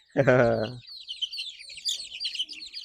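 Speckled Sussex chickens on a farm: one loud, close cluck at the start, then a run of faint, high-pitched chirps from the flock.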